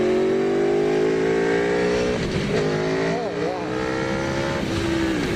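A 2016 Aprilia Tuono V4 1100RR motorcycle accelerates hard with quick-shifter upshifts, its loud engine tone climbing and dropping across gear changes, with a brief exclamation from the rider over it.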